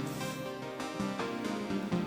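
Plucked synth patch from a Behringer DeepMind synthesizer, with short repeated notes in a quick bouncing rhythm, bright and close, with no talking.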